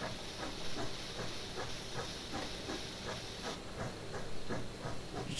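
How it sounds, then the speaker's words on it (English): Steam hisses from the open cylinder cocks of an AT&SF Northern steam locomotive in Train Simulator Classic. A continuous loud hiss is cut by regular rhythmic chuffs as the engine works, with no voices. "Our steam effects here for our cylinder cocks are alright"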